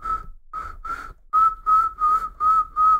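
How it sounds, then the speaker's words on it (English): A beatbox whistle made with the tongue resting against the back of the bottom lip. It sounds as eight short, clear tones at a steady pitch: three softer ones, then five louder ones in an even rhythm. "And now I want you to try and get the same whistle out,"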